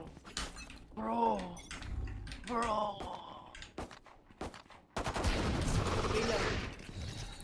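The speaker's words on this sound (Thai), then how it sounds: "โอ้โหเชอร์ลีดยิงรัวขนาดนั้นเข้าหัวได้ไงวะ" Rapid gunfire in Valorant lets loose a dense, loud burst of shots near the end, after vocal sighs and groans and a few sharp isolated impacts.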